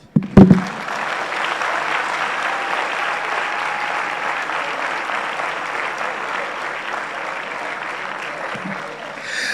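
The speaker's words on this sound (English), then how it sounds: "A round of applause, ladies and gentlemen." Sustained, dense audience applause fills a hall at a university business school Management Day celebration, steady and loud throughout after a brief knock at the start, with faint voices near the end.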